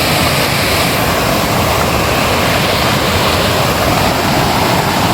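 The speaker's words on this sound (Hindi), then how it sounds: "ये देखो, ये खूबसूरत आबशार, ब्यूटीफुल आबशार, यही वो आबशार है।" Spring-fed village waterfall on a monsoon morning roars steadily nearby, a dense, unbroken rush of falling water with no voices over it.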